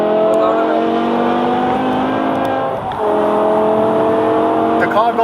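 A modified 550 bhp BMW E60 M5 with its V10 engine accelerating on a wet road, a steady, loud rising engine drone heard from inside the car, with a brief dip mid-way as it shifts, and voices underneath.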